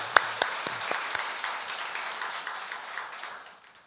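A church congregation claps for the choir: a few sharp early claps swell into scattered applause that quickly fades away over a few seconds, fairly quiet and roomy.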